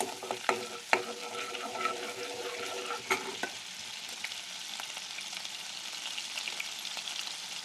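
Butter melting in a hot pan for a paneer kofta gravy, with a steady soft sizzle and a few sharp scrapes of stirring early on, close and moderately quiet.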